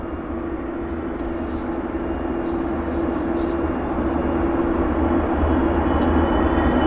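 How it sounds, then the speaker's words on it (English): A WestJet airliner taxis into position at Vancouver airport, its engines a steady, loud rumble and whine that swells slightly toward the end, with no voices over it. "a WestJet maneuvering up to the start box there"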